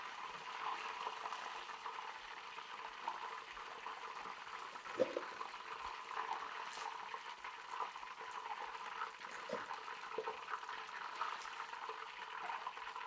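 Popcorn chicken frying in hot oil with a steady, soft bubbling and sizzling hiss, occasional louder splashy pops, fairly quiet and close.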